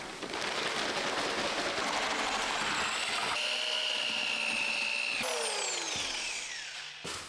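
A power drill with a mixing paddle churns concrete topping in a bucket for a DIY countertop, a loud continuous whirring grind throughout that shifts pitch as the motor slows and speeds up near the end.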